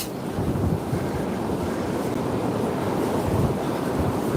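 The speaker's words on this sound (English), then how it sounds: "I've never known it's so windy here." Strong coastal wind roars and buffets the microphone in a steady broadband rush above the River Tweed at Berwick, with surf-like noise and no talking.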